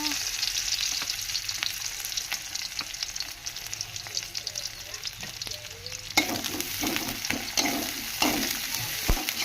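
Onions fry in a little oil for matar curry, giving a continuous close sizzle with bursts of stirring. The stirring grows busier and louder partway through, and no one speaks.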